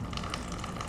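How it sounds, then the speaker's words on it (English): Coolant draining out of a KTM RC 390 / Duke 390 motorcycle radiator after the cap is loosened, a faint steady trickling gush of liquid, brief and continuous with no talk. "Now the radiator cap is loosened, and more of the coolant is coming out."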